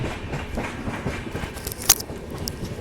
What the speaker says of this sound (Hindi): और खूबसूरत कर्व के साथ हमारी ट्रेन जयपुर जंक्शन में एंटर होने वाली है।